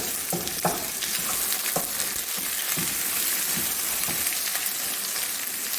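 Garlic, onion and ginger fry in hot oil, a bright continuous crackling sizzle with several scraping stirs, heard up close without voices.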